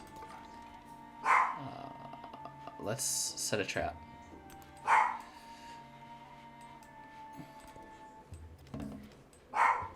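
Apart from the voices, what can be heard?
dog barking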